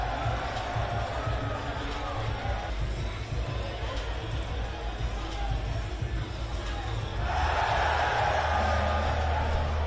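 A packed crowd at a Drew League summer basketball game roars and cheers in a steady wash of noise that swells louder near the end, with speech mixed in.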